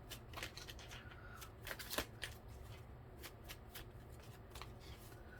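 Tarot cards are shuffled by hand, a quiet run of quick riffling, flicking bursts with soft taps between them, heard close up and with no talk.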